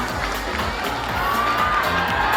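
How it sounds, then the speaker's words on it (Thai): At a gala film premiere, a large indoor audience cheers and whoops under continuous crowd noise. Some applause blends into the sustained roar. "ขอเสียงปรบมือดังหนึ่งครั้งนะครับ"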